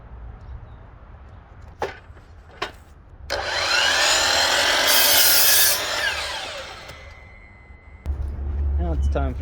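Wooden posts for a DIY pull-up bar cut in half with a power saw: a few knocks, then a loud, steady buzzing cut lasting about three seconds, with a voice briefly heard at the end.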